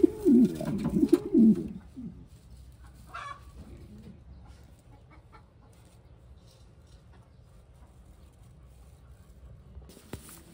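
Racing pigeons at a derby loft, including 100-day-old young birds, give a loud close burst of cooing and fluttery calls for about two seconds, then only a faint, quiet background remains.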